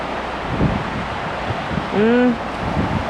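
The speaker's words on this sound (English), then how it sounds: "river is up pretty good." A steady broadband rushing roar of the fast-flowing, high Clark Fork River, with a brief rising tonal call partway through.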